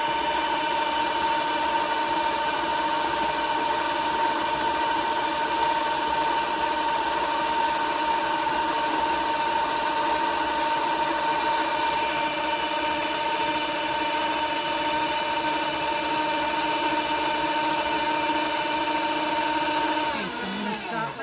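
An electric stand mixer runs steadily on shortbread cookie dough, a continuous close motor whine and hum lasting twenty seconds, slowing just at the end, with no speech.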